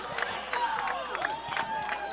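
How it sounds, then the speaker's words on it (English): A crowd at a high school boys' baseball game applauds and cheers for a pitcher, scattered clapping and voices heard at a moderate distance with a steady background. "Applause for Brandon Pink."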